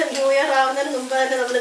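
Kabuli chickpeas frying in a pan, a loud close sizzle with a stirring scrape, running without pause for under two seconds.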